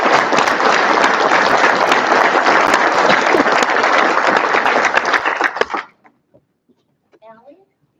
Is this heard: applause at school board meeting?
yes